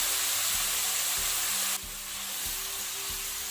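Okra and potatoes cook in a pan over low heat with soy sauce, making a steady close sizzle and frying hiss with regular stirring scrapes and no speech.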